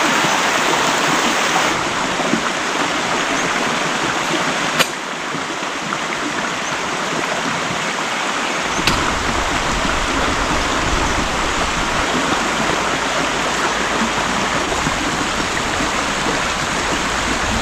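A river flows steadily beside a motorcycle campsite, a continuous rushing water sound that stays even and fairly close throughout, with no talk over it.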